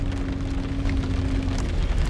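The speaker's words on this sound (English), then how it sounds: "It is raining outside today" Steady rain falls outdoors, a continuous close hiss spread evenly across the whole stretch with a faint low hum underneath and no voices.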